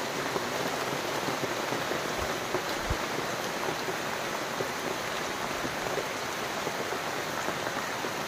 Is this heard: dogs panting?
no